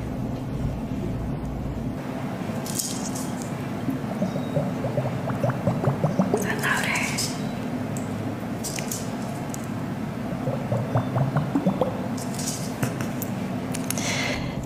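Wet, squishy water sloshing with bubbly gurgles, close up and steady, swelling in two bursts of splashy movement.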